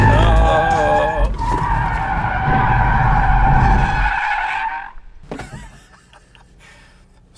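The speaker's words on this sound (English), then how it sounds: "Nothing major. Just a little crash." A Kia Stinger, Kia's rear-wheel-drive car, skids while drifting into a minor crash: loud sustained tyre squeal with wavering pitch for several seconds, then a sharp stop and quieter rattling, scraping noises as the car comes to rest.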